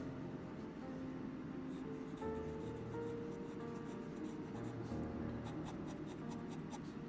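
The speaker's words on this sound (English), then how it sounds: "it's not overly scratchy for an extra fine nib" Fine nib of a Moonman M2 fountain pen scratching softly across paper, a faint, continuous close-up rubbing with light strokes over a low background hum.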